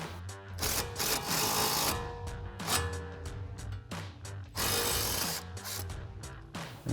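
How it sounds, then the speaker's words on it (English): An impact wrench with an 18mm socket spins the nut off a front sway bar link on a 2015 or later Mustang, firing in several short rattling bursts up close, separated by pauses. "we're gonna grab our impact and 18mm socket and take our nut off our sway bar link here"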